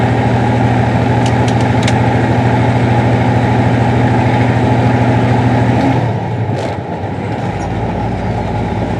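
A new truck's engine idles with a steady low drone and hum after a gear shift, then the tone drops and changes near the end.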